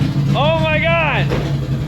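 A turbo-swapped project car engine running at a low, steady rumble close by. A loud, excited voice rises over it briefly.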